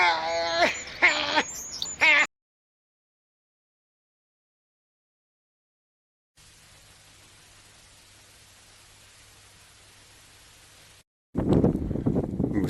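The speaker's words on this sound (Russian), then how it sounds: "Ветер очень-очень сильный." Very strong wind in a February blizzard, gusting against a phone microphone outdoors where pigeons shelter, with harsh broadband roaring in bursts at the start and end and a quieter steady rush in between.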